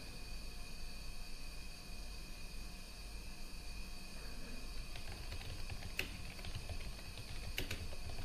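Typing a password on a computer keyboard during a Linux program installation, a few soft key clicks in quick succession with sharper taps near the end, faint over a steady hum of room noise.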